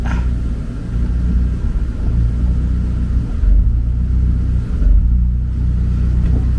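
A 2019 Mazda MX5 ND2 rolls slowly back and forth on corner-balance scales, giving a steady low engine and tyre rumble with two brief surges as it moves, close and loud.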